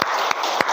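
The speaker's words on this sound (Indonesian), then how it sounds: "tepuk tangan untuk kawan kita ya" Short burst of classroom applause for a student who answered a question, steady clapping from a group of students lasting under a second.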